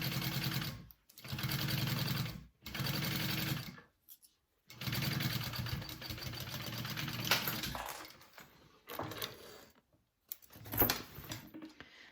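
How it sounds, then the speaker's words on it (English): A sewing machine top-stitches a seam on a bowler bag in several bursts of rapid close mechanical chatter, separated by short pauses, with softer handling noises and a last brief run near the end. "And then you're going to fold that down and top stitch it."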